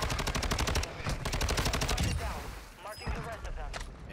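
Rapid automatic bursts from an STB 556 rifle in a first-person shooter, loud rhythmic shots for about two seconds, then sparser gunfire and game sounds with a player talking over them.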